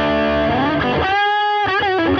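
A Les Paul electric guitar played through a Nobels ODR-1 overdrive pedal at high gain rings out loud and thick, with distorted chords followed by sustained single notes, close and alone.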